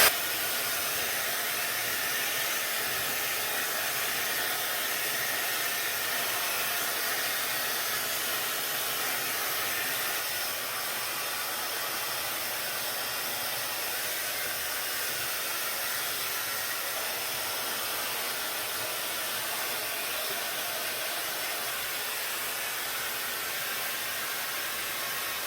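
A hot air styler with curling barrels blows steadily and loudly, a continuous broadband airflow hiss holding nearly constant throughout with no voices.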